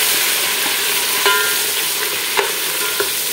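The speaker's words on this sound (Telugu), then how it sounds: "ఒక గుప్పిడు పుదీనా వేసేసుకుందాము. బిర్యానీ కల్లా పుదీనా ఫ్లేవర్ చాలా బాగుంటుందండి. ఇది వేగనిద్దాము చక్కగా." A handful of mint leaves fry in hot oil for biryani, sizzling steadily and loud while a utensil stirs with a few light scrapes and knocks.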